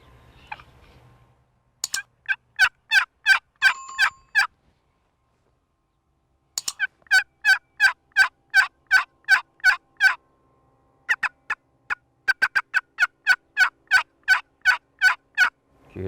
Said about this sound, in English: Did you hear that gobbler answer?